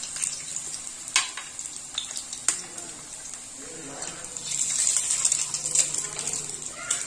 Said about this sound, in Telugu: ఇవన్నీ 2 ఎగ్స్ను కిందకి కట్ చేసేసి వేస్తాం.